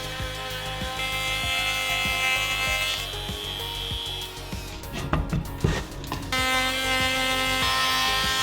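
A router cuts shoulders on wooden coffee table rails, producing a continuous high buzzing whine with gritty rasping. There is a brief rougher, louder stretch partway through before the steady cutting resumes.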